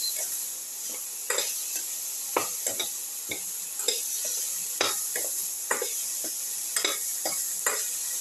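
Tomato pieces being mixed in a sizzling pan for a cauliflower tomato rice soup, with a steady hiss under a regular run of spatula scrapes and clinks against the metal, with no talking.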